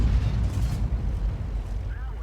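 A tank cannon firing in a tank video game, a single deep booming blast with a low rumble that carries through the whole moment, loud and close.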